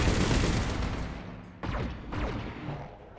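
Mech weapons firing in the Battletech video game: a dense, loud barrage of overlapping blasts and impacts, followed by two sharp, sweeping volleys that burst out and then taper off.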